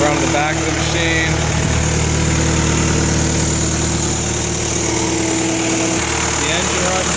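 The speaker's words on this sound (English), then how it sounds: "The engine runs well." A 2003 Cat 246 skid steer loader's engine runs at a steady idle close by, a continuous loud mechanical drone with even vibration throughout and no talk over it.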